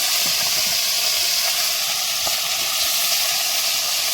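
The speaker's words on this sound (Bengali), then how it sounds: "এখন লাস্ট স্টেপ চলছে মাছ ভাজা" Fish frying in a pan on a boat in the Sundarbans: a loud, steady sizzle and hiss that holds throughout, close by, with faint clatter underneath.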